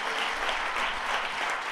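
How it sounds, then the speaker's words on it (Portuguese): A church congregation applauds Jesus during a Sunday celebration service, a short, even wash of many hands clapping, fairly soft and somewhat distant, with no speech on top. "Pode aplaudir Jesus"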